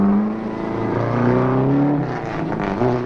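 A car's engine revs loudly as it accelerates, a steady rising roar with shifting tones that stays close and prominent, no voices over it.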